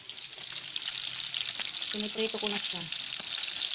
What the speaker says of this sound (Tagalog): magluluto ako ng galonggong, ang pangbansang isda. Trinito ko na siya. Piniprito ko na siya.